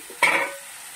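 Bottle gourd pieces are stirred in a hot pan for a lau ghonto, making one brief scraping sizzle that rises sharply and fades within half a second.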